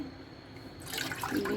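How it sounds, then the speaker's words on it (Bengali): Milk pours from a measuring cup into a frying pan, a close, soft liquid splash and trickle that starts partway through and builds, with no talk. "আমি একটা ফ্রাই প্যান বসিয়ে দিয়েছি, এখানে আমি দুধ দিয়ে দিচ্ছি 1 কাপ।"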